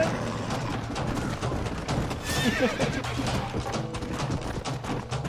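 A horse neighs loudly in the video game Red Dead Redemption while hooves clip-clop in a steady galloping rhythm beneath it, set against continuous game background noise.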